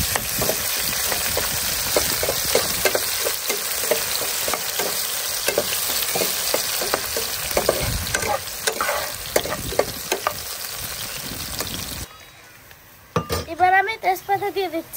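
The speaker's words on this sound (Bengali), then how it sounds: "তেল গরম হয়ে গেছে, তো এবার আমি পেঁয়াজ কুচি দিয়ে দিচ্ছি।" Chopped onion and chili fry in hot oil while being stirred, a loud, busy sizzle broken by repeated scrapes and clinks of a utensil on the pan; near the end the frying drops away and a voice briefly speaks.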